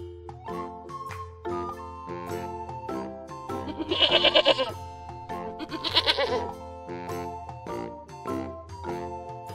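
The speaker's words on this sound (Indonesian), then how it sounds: "Kambing?" A goat lets out two loud, wavering bleats a couple of seconds apart, set against a jingling, tinkling melodic background.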